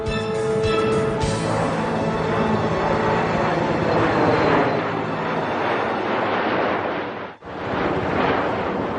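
A DHL cargo airplane coming in fast to land at Baghdad, its engine roar a loud, steady, broadband rumble with wind buffeting, cut by a brief dip near the end before resuming.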